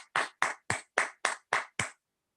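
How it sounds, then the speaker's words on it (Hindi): Seven sharp, evenly spaced claps during a webinar, loud and close, sounding alone with no talk, then silence. "आपकी जबरदस्त तालियों के बीच में सर।"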